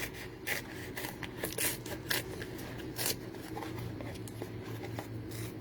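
Scissors cut through a sheet of paper for stamp crafting, making a run of close, quiet snips and rustles against a low background hum.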